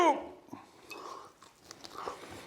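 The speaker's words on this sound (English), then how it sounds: "You can probably hear the crunch." Close chewing of crispy bacon slices, with soft irregular crunches and biting sounds in the mouth; faint background noise and a brief voice-like tone at the start.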